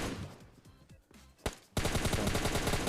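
Gunfire in PUBG Mobile: a few muffled shots over quieter game sounds, then a loud, continuous burst of rapid automatic fire for the last second, close and dominant, with no talk.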